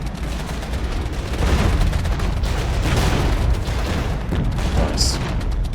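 Tank cannons and battle noise in the real-time tactics video game Regiments, with T-72 tanks engaged: a dense, continuous roar of overlapping booms and gunfire, loud throughout with no clear gaps.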